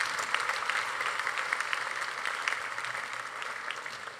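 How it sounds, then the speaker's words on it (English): Crowd applause for student ambassadors at a Class of 2019 class night ceremony, a steady dense clapping from a large audience that holds even and continuous for several seconds, with no voices over it. "a round of applause for our student ambassadors."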